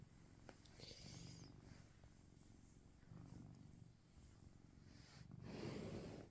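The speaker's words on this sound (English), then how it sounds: "But you're very purry." Cat purring softly in close range, a faint rhythmic rumble rising and falling with each breath.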